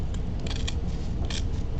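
Scissors snip across ribbon ends during wreath making, a few short crisp cuts close by over a quiet room hum.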